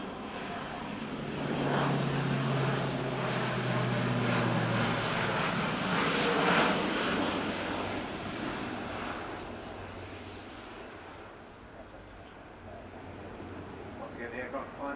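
An Airbus A400M Atlas turboprop transport climbing during a flying display at the RIAT 2014 air show, a loud sustained propeller-engine drone that swells and then slowly fades as it moves away.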